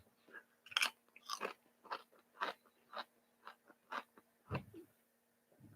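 Homemade baked roast garlic potato chips are bitten and chewed, giving about a dozen crisp, close crunches in a fairly steady rhythm, followed by a softer chew near the end.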